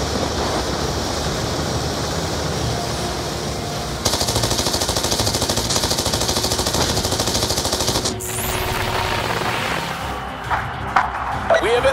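Sustained rapid gunfire batters a military convoy in Call of Duty Black Ops 2, dense and loud from the start, with rattling bursts that shift and trail off into scattered impacts near the end. A radio-style voice talks over it.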